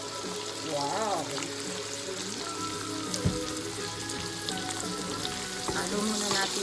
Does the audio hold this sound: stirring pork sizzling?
yes